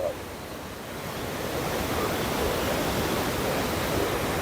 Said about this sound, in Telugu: ఇది వాటర్ చాలా మంచిగా పడుతున్నాయి